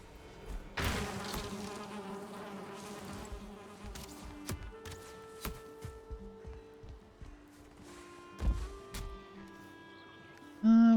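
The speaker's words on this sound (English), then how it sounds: "I still hear bees." Insect-like buzzing of bees in a video game, a steady drone running under scattered game effects, clicks and tones, moderately quiet, with no talking.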